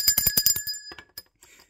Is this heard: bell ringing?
yes